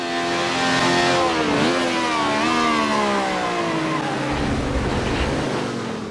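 Race car in a racing video game under full braking with ABS off, wheels locking: a loud, steady engine tone with harmonics sliding downward as revs drop, lasting the whole stretch with no talk.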